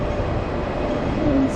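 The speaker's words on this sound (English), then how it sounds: "this one is where all the trams come" Hong Kong street tram rumbling past near a central station, a steady close rolling drone with a brief faint squeal near the end, no talk.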